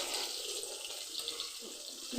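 Tap water runs in a steady, hissing stream into a kitchen sink while chicken is washed, close and continuous with no voices.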